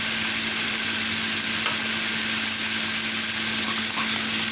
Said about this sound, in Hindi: करी आ गई भूनते भूनते